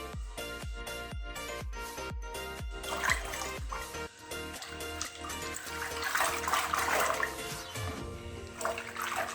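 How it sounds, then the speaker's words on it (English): A hand swirls soap powder through water in a bucket, splashing and sloshing at close range, first in a run of regular sharp strokes, then in a fuller, continuous churning. "once you have mixed the soap powder thoroughly with the water"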